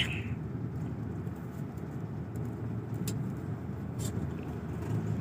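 Steady road traffic in Tagaytay, slowed by flyover construction, heard as a continuous broadband rumble of engines and tires. A couple of faint high clinks sound over it, and no one speaks.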